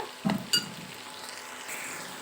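Cumin paste drops into spices frying in a pan for a hilsa curry: two soft thuds of the spoon and paste, followed by a quiet, steady sizzle close by.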